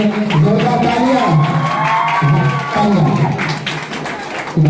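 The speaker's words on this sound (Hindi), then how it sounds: "जोरदार तालियां" An audience at a school annual examination results ceremony gives a loud round of clapping and cheering, with children's shouts and a voice over the sustained applause.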